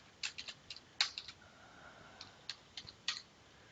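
Keys on a computer keyboard are tapped in short, sparse bursts, quiet and close, with pauses between clusters of clicks and no voices.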